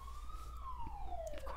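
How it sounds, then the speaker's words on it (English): An emergency siren wails outside in a single long tone that rises and then slowly falls, heard at a moderate distance over a low background rumble. "of course, there's more sirens"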